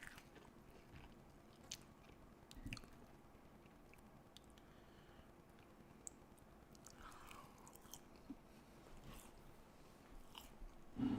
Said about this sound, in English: You guys want some real food ASMR?